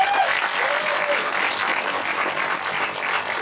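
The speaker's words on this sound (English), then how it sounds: "So let's give them a round of applause." Steady audience applause at a high school graduation, dense clapping sustained evenly throughout without letting up.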